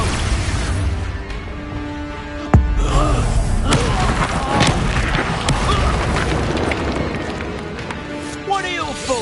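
Booming spell blasts from Expulso and Confringo in the video game Hogwarts Legacy, one sharp loud impact then a churning, crackling rumble of combat under a spoken voice.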